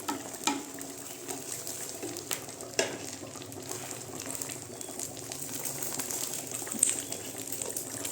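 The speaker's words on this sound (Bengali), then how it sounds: "রুটিগুলোকে একটু সেঁকে নিচ্ছি" Slices of bread toasting in a dry pan for plain egg toast, a soft steady sizzle with faint scrapes and taps of pressing, quiet and close, no talking.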